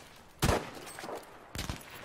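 Two bursts of close gunfire ring out in the shooter game Battlefield V Firestorm, each a sharp loud report separated by about a second, with no voices over them.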